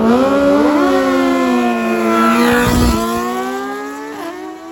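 Drag-strip motorcycles race past, high engine notes climbing through rapid gear changes and shifting pitch as the bikes pull away, loud at first then fading slightly into the distance.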